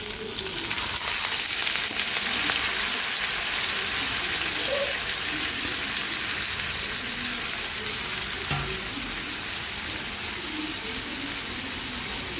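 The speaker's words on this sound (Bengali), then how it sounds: "পেঁয়াজটা ভাজা হয়ে গেছে এখন করলাগুলো দিয়ে দিব" Loud, continuous sizzling of bitter gourd frying with onions in hot oil in a pan, with occasional stirring, and no talking.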